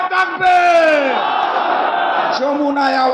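A large outdoor political rally crowd shouts the Naraye Takbir chant together, a loud, close massed yell with a leader's voice calling out and the crowd roaring back in rising and falling waves.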